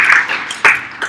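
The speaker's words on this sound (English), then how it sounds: "Please a round of applause" Audience applause at a Women Techmakers Berlin JavaScript crash course, a brief ragged burst of clapping from a small group, fairly close and fading quickly.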